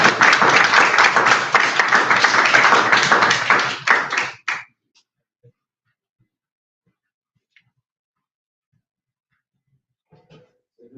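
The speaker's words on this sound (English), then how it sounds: "Let's give him a round of applause." A small workshop crowd gives a round of applause for a man coming up to speak, dense clapping for about four seconds that stops abruptly, followed by near silence with a few faint knocks.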